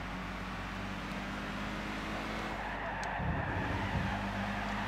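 Race cars in the Gran Turismo 6 video game drone and roar continuously at close range, with engine pitch shifting and a brief tire-squeal edge as cars jostle during an overtake; no talk is heard.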